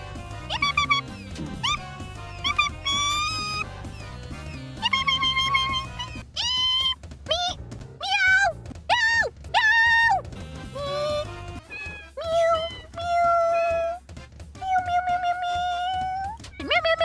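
A cat meows repeatedly, a string of clear, tonal, drawn-out calls of varying pitch and length, some short and some stretched, close and fairly loud across the whole stretch.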